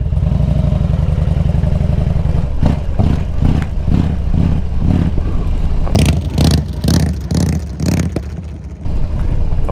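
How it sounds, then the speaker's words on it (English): A motorcycle lurching as its clutch is rocked back and forth, the engine surging and dropping in a series of uneven pulses with clattering mechanical noise, loud and close, without talk. "You may rock this clutch back and forth."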